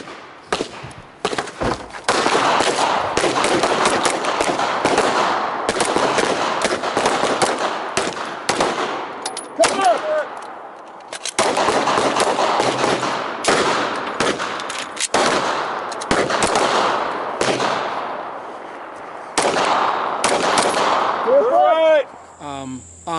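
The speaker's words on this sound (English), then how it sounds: "we will run our guns until they run dry" Guns fire in long sustained bursts during a military training drill, loud and continuous with brief pauses between strings of shots, while voices shout faintly among the gunfire.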